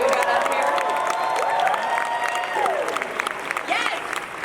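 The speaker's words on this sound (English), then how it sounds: "Can we get one more big round of applause for this awesome crew that we've got up here?" Crowd in a large convention hall at San Diego Comic-Con applauding a crew on stage, loud sustained clapping and cheering filling the room, with shouts and voices mixed into the roar throughout.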